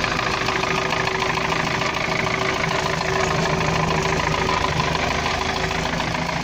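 A UAZ 417 engine with a knocking fault runs steadily, a loud close mechanical drone with a persistent tonal hum and rapid rhythmic knocking throughout, no talk over it.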